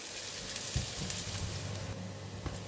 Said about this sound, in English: Alright, the oil is hot. I'm going to put in the shallots